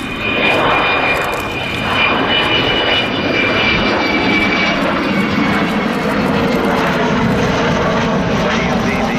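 The Avro Vulcan XH558 jet bomber flies past with a loud, sustained engine roar, a broad rushing drone holding steady, then easing slightly, close and continuous throughout.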